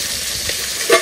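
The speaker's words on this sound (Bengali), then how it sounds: "এই যে এখানে চিকেন হচ্ছে" Chicken frying in a pan at a fair food stall, with a steady sizzle and stirring scrapes and a brief louder clatter near the end, close by and with no talk.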